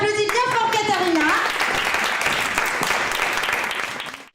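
After a voice calls for it, an audience breaks into a loud, sustained round of clapping for Katharina that carries on evenly before tapering off at the end.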